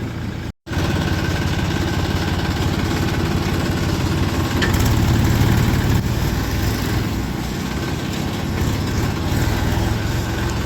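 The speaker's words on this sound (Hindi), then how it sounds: "ट्रैक्टर ट्रॉली लाइन लग रही है।" A tractor engine idles close by with a steady, rumbling low drone, continuous throughout after a brief cut at the start, in a line of tractor trolleys.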